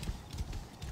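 Horse hooves clip-clop in the video game Assassin's Creed Origins, a faint, quick rhythmic trot of soft thuds repeating through one second.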